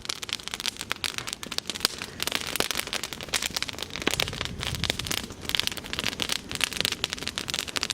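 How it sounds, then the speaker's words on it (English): A raging campfire crackles while breakfast is cooked on a backpacking trip in the Wind River range, with dense, continuous pops and snaps close by. "has a raging fire going on"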